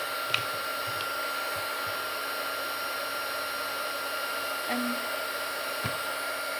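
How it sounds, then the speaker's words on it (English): A heat gun blows steadily to dry paint on popsicle sticks for a craft, giving a constant loud whooshing hum with a faint whine, while a voice says a brief word and small clicks sound underneath. "Heat gun it."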